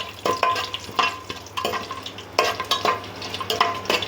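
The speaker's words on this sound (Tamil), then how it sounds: "நல்லா வதக்கலாம்" Onions, cumin and chillies sizzling in hot oil and being stirred in a pan, with scraping strokes of a spoon at an irregular rhythm, close and fairly loud.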